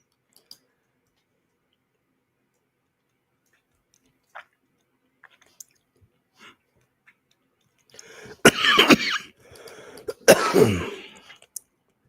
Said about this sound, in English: Don't cough up a lung.